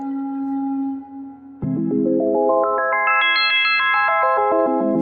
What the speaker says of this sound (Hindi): जल्दी से ईश्वर को स्मरण करते हुए वह दिव्य शंख बजाता है